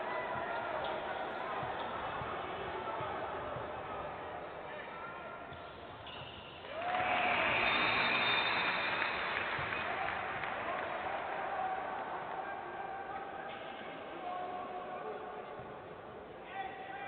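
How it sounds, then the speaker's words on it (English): A basketball arena crowd at a FIBA World Cup qualifier between Jamaica and El Salvador swells into a loud, sustained roar of reaction partway through, then slowly settles, while a commentator talks over the steady crowd noise. "And hearing it from the crowd now."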